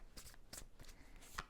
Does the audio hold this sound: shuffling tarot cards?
yes